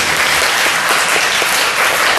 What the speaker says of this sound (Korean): 박수를 하면